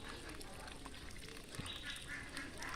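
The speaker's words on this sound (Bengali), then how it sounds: "আমাদের বাড়ির চীনা হাঁসগুলো খাবার খাচ্ছে খুব মনোযোগ সহকারে।" Chinese ducks at a homestead feeding, giving soft honking quacks and dabbling sounds, faint and fairly close over a steady outdoor background.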